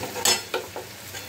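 Coriander powder being stirred into frying chickpea and pea dal with potatoes, moistened with a little water; a few quick scraping strokes over a soft sizzle.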